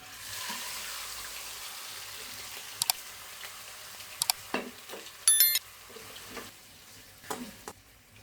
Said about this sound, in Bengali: আমার গুস্তটা ভাজা ভাজা হয়ে গেছে